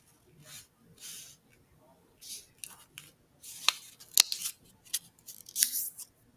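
Sheets of origami paper are folded corner to corner and creased firmly, giving crisp, papery rustles and sharp crackling bursts that come in uneven clusters, a few louder snaps standing out near the middle and end.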